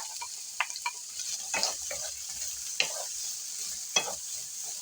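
Vegetables sizzle in a pan, a bright constant frying hiss broken by several distinct scrapes and clacks of stirring close at hand.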